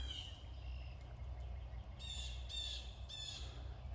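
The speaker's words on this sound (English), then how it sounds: "Sounds like a blue jay there." Several harsh, raspy blue jay calls ring out in quick succession from a short distance in a flower garden, standing out against a steady low rumble of outdoor background noise.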